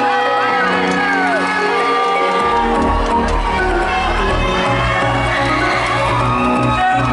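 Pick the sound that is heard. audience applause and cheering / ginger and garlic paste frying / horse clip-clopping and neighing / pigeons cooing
audience applause and cheering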